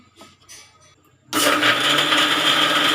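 A few faint clinks and quiet handling, then a mixer blending fresh apples with sugar into juice whirs on abruptly and runs loudly and steadily to the end.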